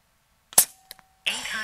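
A single sharp shot from an AirMaks Katran Long .25 caliber air rifle, a loud close crack followed by a faint metallic ping, then a person starts talking right after.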